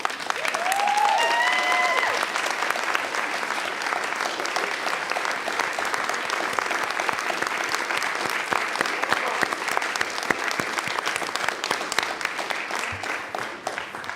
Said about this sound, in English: I ask that they stand so that we can offer them a round of applause